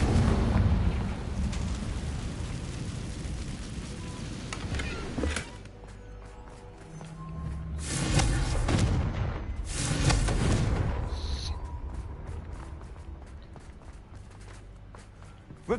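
Several blasts from Confringo fire spells in Hogwarts Legacy: a roaring rumble at the start, then two more swelling bursts near the middle, each loud and close before fading into quieter game ambience.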